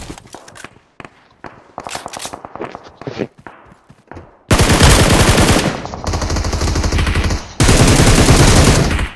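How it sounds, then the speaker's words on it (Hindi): Loud, sustained automatic gunfire from a mobile battle royale shooter, rapid bursts crackling close by after a stretch of sparse clicks and footsteps, with a brief gap before another dense volley. "और क्या ही गंदा फायर होता है मेरे पे"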